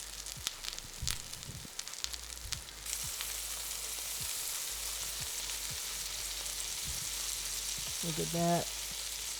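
Panko-coated shrimp deep fry in hot oil, restaurant style, giving a steady close crackling sizzle with sharp pops throughout, while a voice speaks briefly near the end.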